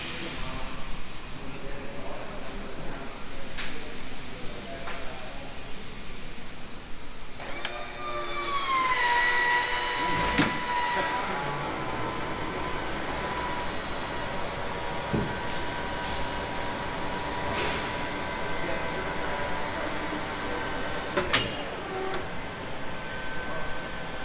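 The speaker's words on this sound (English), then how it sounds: "you can tell by the high-pitched squeal in the pump that it's still got a little bit of air in it" A hydraulic pump raising the convertible top on a '70 Chevelle, with air still in the pump, giving a continuous mechanical whine and a rising high-pitched squeal partway through, alongside clicks and shop noise.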